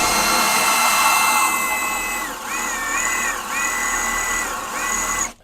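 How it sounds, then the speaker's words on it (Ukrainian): An ELTOS АГУ-20 BL300Hm 20V cordless drill on a 4 Ah battery whines steadily while drilling ordinary metal, its pitch dipping and recovering several times under load before it cuts off abruptly. "сверлить звичайний метал"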